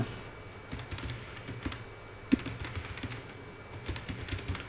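Keys on a computer keyboard are tapped to enter text, giving a close, irregular patter of light clicks with one sharper keystroke near the middle and no talking.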